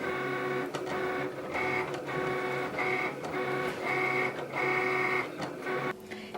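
A Cricut Explorer cuts a vinyl design, giving a steady whirring, buzzing motor drone with repeated rising and falling tones as the carriage moves back and forth, close and continuous.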